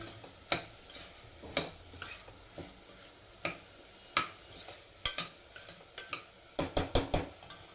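Onions added to vegetable daliya khichdi are stirred in a pan: a series of sharp spoon scrapes and clinks in an irregular rhythm, quickening toward the end, over a faint sizzle.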